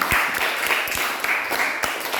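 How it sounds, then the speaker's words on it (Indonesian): Classroom of students giving a short round of applause for a classmate, dense broadband clapping sustained steadily throughout at moderate level, fairly near. "Tepuk tangan dulu buat kamu."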